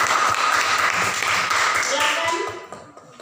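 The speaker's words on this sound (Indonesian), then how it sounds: "Kita beri tepuk tangan." Group of students clapping hands together in a classroom after a discussion session, a dense, steady round of applause that carries on loudly and then tapers off toward the end, with faint voices mixed in.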